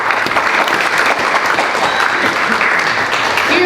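Steady, dense applause from an audience at a poetry reading during a memorial reception, continuing loudly and evenly for the whole stretch without pause.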